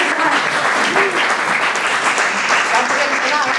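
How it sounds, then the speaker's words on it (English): Audience applause for a startup pitch at a German startup accelerator event, sustained dense clapping from a crowd lasting the whole stretch with no voices on top. "let's give a big round of applause for Daria"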